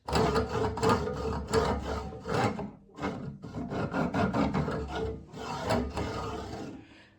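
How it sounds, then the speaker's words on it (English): A continuous rough scraping and rasping of a 5-axis 3D printer part rubbing against a rod as it moves, with uneven surges and brief dips, fairly quiet and close. "That is scraping against a rod, and that's no good."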